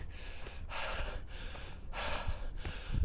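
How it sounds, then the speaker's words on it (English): Heavy, laboured breathing up close after running uphill, with several loud rushing gasps in and out at a steady rhythm and no talking. "As you can hear from my laboured breathing"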